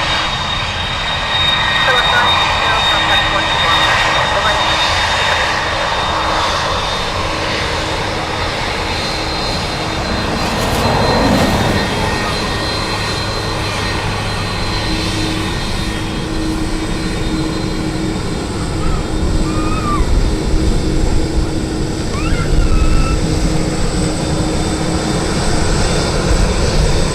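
Aircraft landing at Dublin Airport on runway 28 left, a loud sustained jet engine roar swelling and shifting over the outdoor recording, with radio voices talking beneath it.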